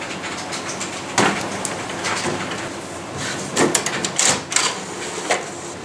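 An HP Officejet Pro 3620 inkjet printer prints an ePrint info page, with steady mechanical whirring broken by sharp clicks and thumps as the paper feeds through, close and alone.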